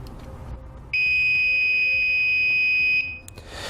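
Circuit tester probing trailer wiring pins for the brake signal wire while a Roadmaster 4-diode universal wiring kit is installed on a towed vehicle, giving one steady, loud, high-pitched beep of about two seconds against quiet background noise.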